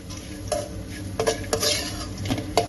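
Grated coconut stirred and roasted in ghee in a pan, a spoon scraping and clinking against the metal at irregular intervals over a soft sizzle.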